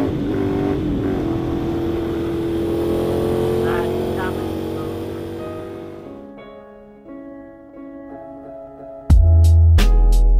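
A motorcycle engine hums with a tonal drone that fades, then a sudden loud, low roar bursts out as the bike is kicked to start and revved, close by.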